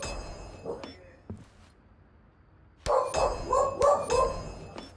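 Several dogs bark from across the street, faint and distant at first, then a louder cluster of yips and barks in the second half over quiet room tone.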